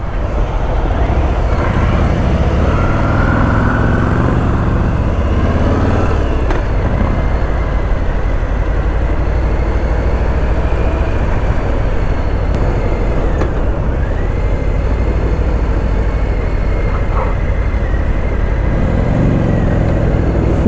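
A Harley-Davidson Softail and Sport Glide ride along, giving a loud continuous engine drone with wind rush throughout and slight rises and falls under the throttle.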